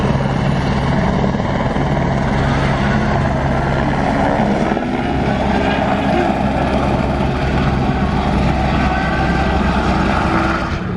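Helicopter hovering above an airport runway during a hypercar run, a loud, close, continuous rotor and engine drone with a steady low throb, sustained throughout with no speech.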